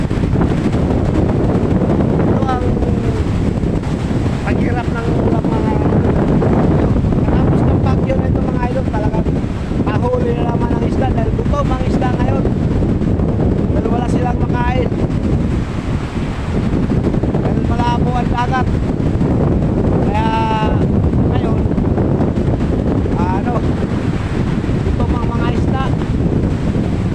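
Strong typhoon wind at sea under storm signal number 1 buffets the microphone with constant roaring gusts. Waves wash around a small fishing boat, and someone talks now and then underneath.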